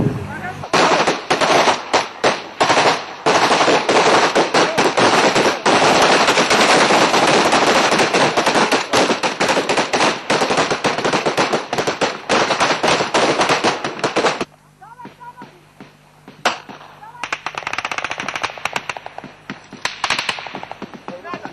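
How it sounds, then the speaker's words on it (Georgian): Sustained automatic gunfire rattles in dense, rapid bursts during a shooting near the villages of Tagiloni and Shamgona, loud and continuous before dropping to quieter, scattered shots with some voices. "სოფლების თაგილონისა და შამგონის მიმართულებით სროლა 1 საათი გრძელდებოდა"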